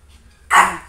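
Three freshly bathed small dogs, a Shih Tzu, a mixed-breed street dog and a Chihuahua, at play; one sharp, close bark rings out after a brief quiet moment.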